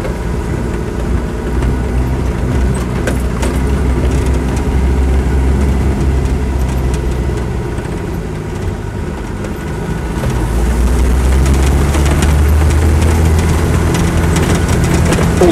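A Land Rover 110 soft top with a 2.5 diesel engine drives with a continuous low rumble that swells louder and heavier partway through, its note steady and close.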